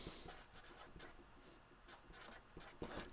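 Chalk or marker writing on a board during a complex analysis lecture, a faint, close run of short scratchy strokes and taps in an irregular rhythm, with no speech over it.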